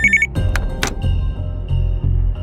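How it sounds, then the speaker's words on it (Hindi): A telephone on a table gives a short bright ring, followed by clattering knocks, a thin lingering tone and a low rumble, with no voices. "तभी अचानक टेबल पर रखे फोन की घंटी बजी।"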